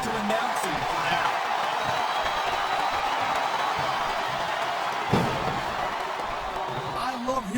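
A dense arena crowd roars continuously in a WWE SmackDown vs Raw 2007 Hell in a Cell match between Batista and Booker T, loud and sustained with a few thumps and whoops, and voices talking over it.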